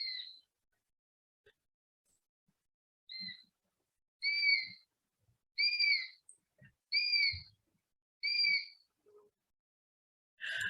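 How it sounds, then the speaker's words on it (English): A sparrowhawk gives a series of thin, squeaky, high whistled calls, repeated at steady intervals with quiet gaps between, fairly clear and alone. "sparrowhawks have this very light, squeaky call, very constant sound"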